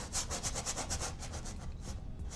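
Bristly paintbrush scrubbing paint onto a still life canvas, a close, steady rhythm of rough back-and-forth rubbing strokes with no talk.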